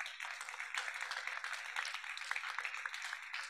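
Sustained audience applause at a conference closing ceremony, a dense, even patter of many hands clapping continuously at moderate distance.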